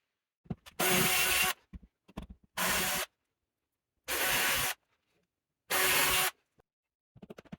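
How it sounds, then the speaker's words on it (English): Four loud bursts of a power drill boring holes into a wall to mount a Dreo wall heater, each lasting about half a second to a second, separated by short pauses with faint handling noises. "let's get drilling and see if we can make that work"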